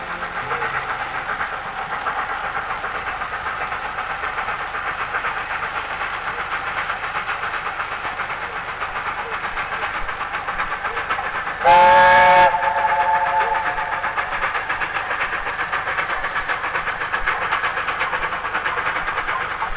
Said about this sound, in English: here comes the first train